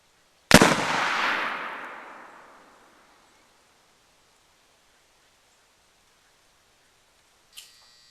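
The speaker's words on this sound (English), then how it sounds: "we are going to take trusty blunderbuss here with a load of 80 grains of 777 and a 54 caliber round ball" A single loud muzzle-loading blunderbuss shot, charged with 80 grains of 777 powder and a .54 caliber round ball, bursts out and then rolls away in a long fading echo, followed by a brief faint click near the end.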